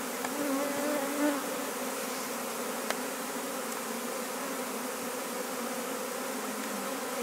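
Honeybees crowd at the entrance of their hive in Denmark, many walking back inside, with a steady, dense, close buzzing hum throughout and no voices.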